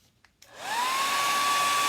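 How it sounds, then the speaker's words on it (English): A blow dryer drying paint on an upcycled lazy susan, starting after a couple of faint clicks, spinning up with a rising whine and settling into a loud, steady, close whoosh with a constant tone. "I'm going to hit this with a blow dryer."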